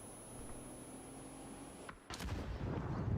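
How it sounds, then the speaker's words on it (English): In a competitive video game match, a low steady ambience runs for about two seconds before a grenade explosion bursts in: a sudden loud, broad blast with a rumbling, crackling tail. "Another nade comes through"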